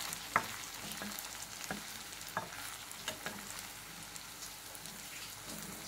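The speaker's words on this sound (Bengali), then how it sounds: "এই ছানার বড়াগুলোকে আমি একটু বেশ লালচে লালচে করে ভাজবো" Chhana fritters made from fresh paneer frying in oil, a faint, crackly sizzle with scattered pops and light stirring taps throughout. No one talks.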